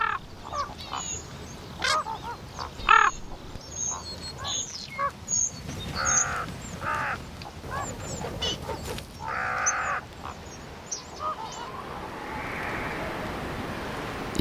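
Common ravens calling over an abandoned sheep carcass in Provence, harsh caws and croaks scattered across the stretch at middle distance against a steady outdoor background.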